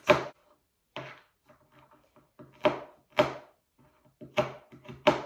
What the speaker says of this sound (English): Okay, so I'm chopping them into about 3 pieces each pistachio nut.